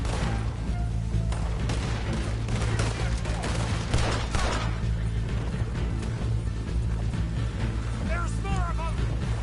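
Rapid, continuous gunfire from a Red Dead Redemption 2 shootout, dense and loud throughout under a steady low rumble, with a few voices calling out over it.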